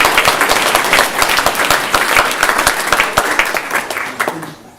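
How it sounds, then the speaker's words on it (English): Audience at a Klister Klub speaker event bursting into loud, close applause, a dense burst of clapping that holds steady and then tapers off over a few seconds. "Please join me in giving a big round of applause."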